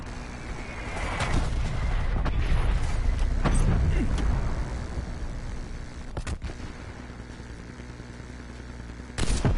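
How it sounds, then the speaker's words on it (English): Video game artillery rumbles in deep, rolling booms, with a few sharp, heavy blasts cracking through near the end amid a steady, loud battlefield roar; a game voice line is heard. "Hostile artillery targeting active. Artillery inbound."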